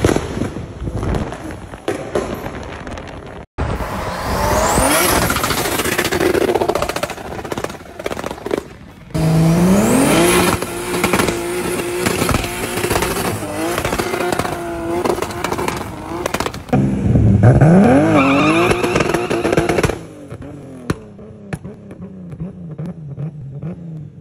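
A BMW E30 sleeper build with over 1,300 horsepower races past, loud high-revving turbo engine pulls climbing through gears, sharp pops and crackles between shifts, and a fading tail as it leaves, with no talk.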